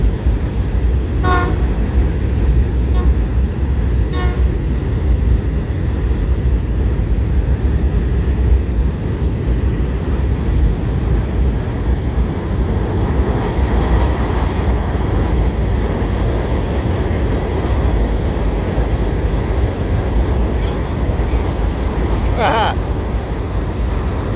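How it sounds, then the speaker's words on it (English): A heavy CSX freight train hauling gravel rumbles past close by, a steady heavy roar of cars on rails, with diesel locomotive horn toots sounding briefly near the start and again late. "Gravel train."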